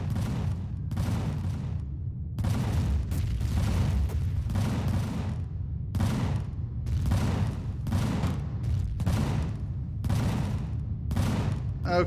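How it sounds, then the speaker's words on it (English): Ship weapons in the space game Empyrion fire in repeated heavy bursts, roughly every second or two, each a loud rumbling barrage with sharp onsets against a low continuous drone. "All of our weapons are firing."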